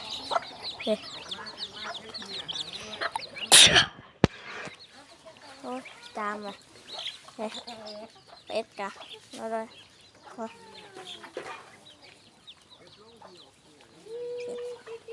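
Chickens and a rooster at a home yard, clucking in short repeated bursts near the microphone, with a loud sharp crowing call early on and people talking between the clucks.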